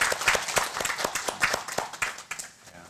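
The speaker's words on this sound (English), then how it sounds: "So a round of applause for all of them." A small audience claps in a scattered, uneven rhythm at a talk, individual hand claps standing out near and clear before trailing off at the end.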